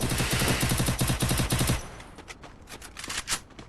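Rapid automatic gunfire in a shooting video game, a dense burst of loud shots for about two seconds, then scattered fainter shots and game effects.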